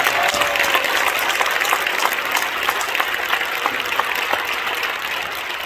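Inside a church at a pastor's installation service, the congregation gives a round of applause for visiting members of parliament, a loud, thick, continuous clapping that stays steady throughout.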